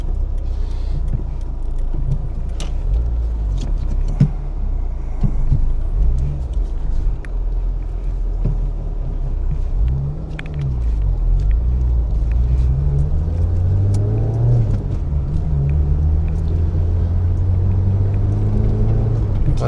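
Engine of a Peugeot 205 small front-wheel-drive car without power steering, droning low and steady while driving and turning; the motor stutters slightly, with a brief dip in the rumble partway through.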